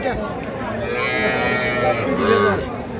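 A Sahiwal heifer calf at a rural cattle market moos loudly and close in one long drawn-out call, with faint background chatter.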